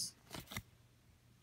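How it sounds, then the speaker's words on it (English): Magic The Gathering cards are riffled and flicked through by hand, two quick papery bursts close to the microphone followed by a brief pause and another short rustle at the end. "I'm just gonna quickly shuffle through these cards."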